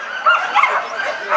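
A dog at a dog sport match event gives a few short, sharp barks and yips close by, with some background voices around it.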